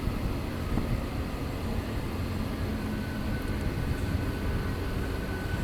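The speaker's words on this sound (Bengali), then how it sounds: "ট্রেনটা যাবে হচ্ছে হাওড়া, বর্ধমান থেকে আসছে।" A local train running from Bardhaman to Howrah rumbles past in a steady, continuous roar, sounding close and broad without clear breaks.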